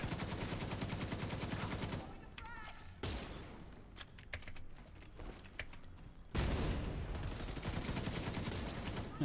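Automatic gunfire in The Division 2 video game, rapid rattling bursts up close with a pause of scattered single shots and clatter in between, then another sustained burst.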